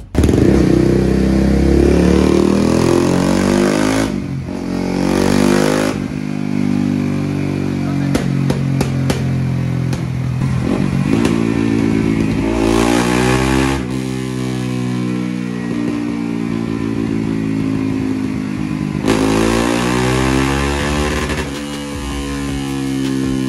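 A bored-up Yamaha R15 V3 motorcycle, enlarged to 240cc, revs hard on a dyno. The engine drones loud and close in repeated surges, with throttle blips and rattling in between.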